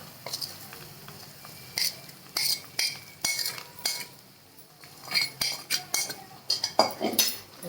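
A metal spoon stirs ground lentil batter into onions in a cooking pan, producing repeated clinking and scraping strokes against the pan in irregular bursts, with faint sizzling underneath.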